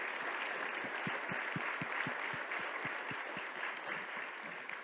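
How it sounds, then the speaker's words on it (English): An audience at a plenary session claps steadily, with a dense patter of applause and a few sharper individual claps, at moderate distance and without talk. "I think we should all give a round of applause to public defenders"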